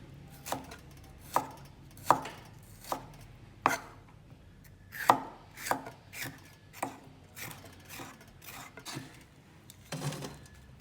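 A knife slicing beef into thin strips on a board, each cut landing as a sharp distinct tap in an irregular, fairly steady rhythm of about a dozen strokes, close and quiet with no talking.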